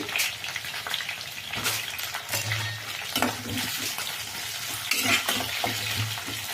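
Tomato, green chili and eggplant fry in oil in a pan, producing a continuous close sizzle with bubbling and intermittent stirring scrapes.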